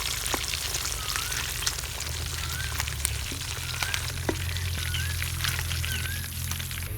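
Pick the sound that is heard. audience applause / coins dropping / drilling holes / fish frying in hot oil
fish frying in hot oil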